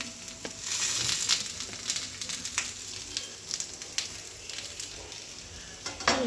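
Vegetables roast in a little oil in a pan on a gas stove for bharit, making a continuous close sizzle and crackle broken by occasional scraping and stirring noises.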